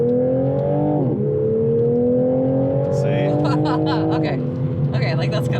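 A Toyota Supra accelerates hard, its engine note climbing through a gear change into a rising, loud whine heard from inside the car, with voices talking over it.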